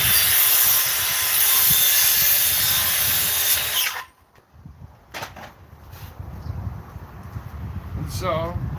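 Circular skill saw cutting an outside corner on wooden baseboard, a loud, close, steady whine for about four seconds that stops abruptly, followed by quieter handling noise and speech.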